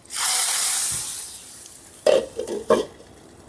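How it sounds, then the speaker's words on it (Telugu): Hot tempering of mustard seeds, garlic, red chillies and curry leaves is poured into moong dal rasam, a loud hissing burst that fades, followed by two short sizzling spurts. "ఇప్పుడు పోపు పెట్టుకుందాం."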